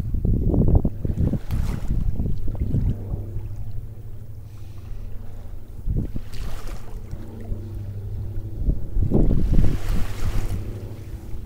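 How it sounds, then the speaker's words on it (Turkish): Strong wind gusts buffet the microphone outdoors, with deep rumbling blasts rising and falling over a continuous low roar, loud and close, with no voices. "Biraz rüzgar var"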